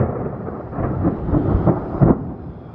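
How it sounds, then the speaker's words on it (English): Thunder rolling during a snowstorm, a low, distant rumble that swells and fades over a few seconds with a slightly stronger peak near the end, heard alone without talk. "It's gonna thunder, watch."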